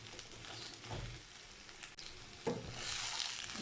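Green beans and vegetables for poriyal sizzle and sauté in hot oil, a steady close frying hiss broken by a few stirring scrapes.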